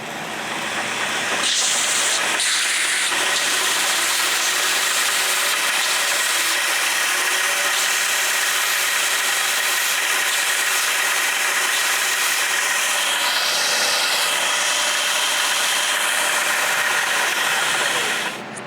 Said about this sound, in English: I'm going to grind it tapered very slightly to where it's going to fit in the top of this eye tight